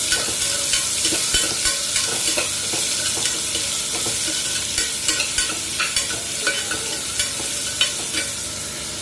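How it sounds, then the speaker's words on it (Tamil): Onion and beetroot frying in a pan for beetroot kulambu after mustard seeds have popped, with a steady sizzle and repeated scraping stirs of a spoon across the pan, close and continuous with no talk. "வெங்காயமும் பீட்ரூட்டும் போட்டு நல்லா"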